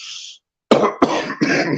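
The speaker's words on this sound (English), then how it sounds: "didn't mean to cough in the mic." A short hiss of breath, a pause, then a burst of three harsh coughs in quick succession, close and loud, with no talking.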